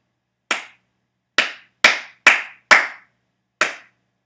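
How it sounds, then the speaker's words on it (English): Single pair of hands clapping a syncopated one-bar rhythm, six crisp close claps with uneven spacing, a tight cluster of four in the middle, alone in silence. "I picked out one bar which with a rhythm that I think is cool, and I'll clap it for you"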